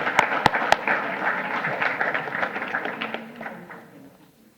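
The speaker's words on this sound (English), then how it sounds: "If we could give them one more round of applause for the amazing work that they do." Audience at a school district board meeting applauds a high school color guard, a dense round of clapping with a few sharp claps early, fading out over several seconds.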